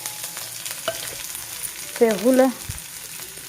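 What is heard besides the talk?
onion and garlic frying in a pan for brinjal chutney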